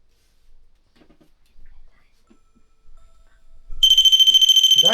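An electronic device beeps loudly and continuously in a steady rapid pattern, cutting in near the end after a stretch of quiet whispering and faint movement in a house during a paranormal investigation.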